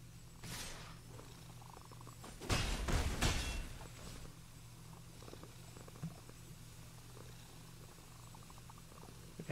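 A cat purrs quietly in a low, continuous rumble, broken early by a louder burst of rustling or bumping before the purr carries on faintly.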